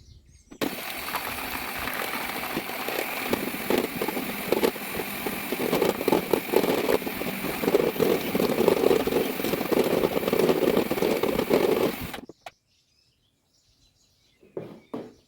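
An electric mixer whips chilled egg whites for an Easter paska glaze, a steady loud whirring drone with a rattling beater texture that runs for about twelve seconds and then cuts off, followed by brief faint clinks.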